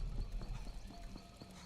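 Horse galloping in The Elder Scrolls Online, a steady rhythmic run of hoof clip-clops at moderate distance, fairly quiet, with a faint whinny and no talk.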